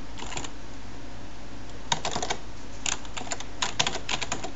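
Code being typed on a computer keyboard, with bursts of quick key clicks separated by short pauses, close and fairly quiet, with no talking.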